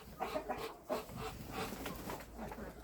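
Cochin chickens in a garden give off soft, irregular clucks, close and moderately loud, with a few sharper calls standing out against a steady low background hum.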